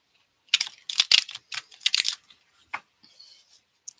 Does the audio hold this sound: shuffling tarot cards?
yes